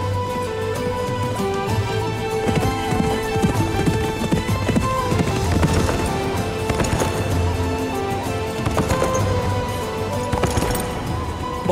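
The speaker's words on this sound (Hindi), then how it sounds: "ये ख्वाब है या वाकई अर्तुरुल भाई घोड़े पर आ रहे हैं?" A horse approaches with a rider, hooves clip-clopping in a steady rhythm, fairly close and prominent over a busy dramatic backdrop of music and ambient sound.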